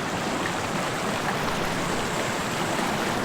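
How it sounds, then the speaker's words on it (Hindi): Two clear mountain streams flow near a hideout in Ziro, giving a steady, close, bubbling water rush with no talk. "आप देख सकते हो ये दो नहर जो स्ट्रीम्स जो बह रहे हैं"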